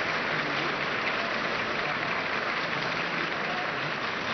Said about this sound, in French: En ce moment, le public applaudit